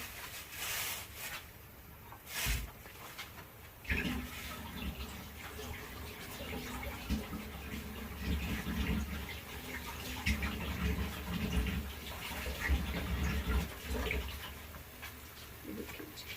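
Water is poured into a pan of onions while they cook for chicken pulao, giving a splashing, hissing wash of sound with a few sharp clatters near the start. The sound runs steadily and fairly close throughout.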